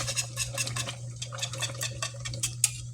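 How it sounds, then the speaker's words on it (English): Homemade BBQ sauce, thickened after simmering 35 minutes, gets a final stir in a pot: a utensil scrapes and clinks steadily against the pot's sides over a low, constant hum. "It's getting its last stir."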